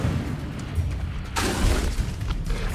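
An Incendio fire spell blast in the video game Hogwarts Legacy, a loud rumbling boom that swells midway through amid a dense, noisy roar of game sound.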